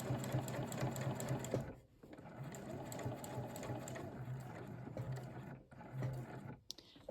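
Sewing machine stitching binding into the corner of a quilt, a steady close mechanical whir running continuously with two brief pauses and restarts.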